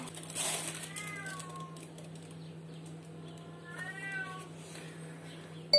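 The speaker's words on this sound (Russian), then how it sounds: "Кот с ума сходит. Не своим голосом разговаривает." A house cat gives two loud, drawn-out meows several seconds apart in a quiet indoor room, with a low steady hum beneath.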